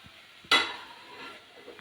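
Spices hit hot oil for a tempering (phodni) while making matar paneer, bursting into a sudden loud sizzle that quickly fades into a softer, steady crackle.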